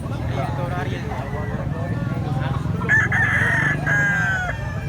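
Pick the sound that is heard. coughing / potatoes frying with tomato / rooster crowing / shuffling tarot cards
rooster crowing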